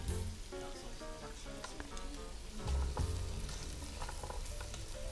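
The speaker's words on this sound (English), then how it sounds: "we want to stir fry this until the sauce starts seeping into the chestnut slightly" Chestnuts stir-fried in a dark sauce with cooking caramel for Hokkien zongzi filling: a constant crackling sizzle, close and moderate in level, with soft stirring scrapes and a brief louder surge midway.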